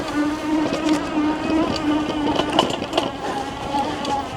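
An electric Zonveer ZX3 dirt bike on knobby tires climbs an off-road hill at full throttle, giving a steady, strained motor whine with a constant drone and rough terrain noise throughout.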